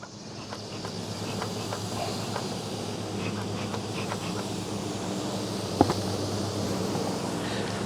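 Honey bees buzz steadily around an open hive during a late-summer inspection, a continuous dense drone with a brief sharp knock partway through.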